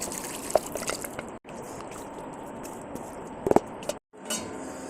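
A coconut milk and spice mix is poured into a Chettinad chicken curry with a soft, continuous liquid wash. Scattered drips and small clinks sound against the vessel, with two brief silent gaps.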